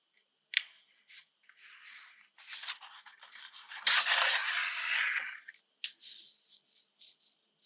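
Scissors trimming card for a hand-stitched snowman card, a series of close, crisp snips and scraping cuts with one longer slicing pass in the middle and brief pauses between.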